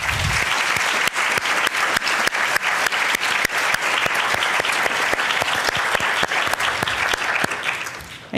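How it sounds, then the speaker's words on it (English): A room full of people claps in sustained, dense applause at a public presentation on military sexual trauma, steady and loud from start to finish. "So I'd like to give them a round of applause right now."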